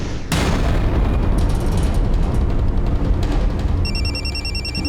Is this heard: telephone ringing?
yes